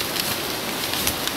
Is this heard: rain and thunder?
yes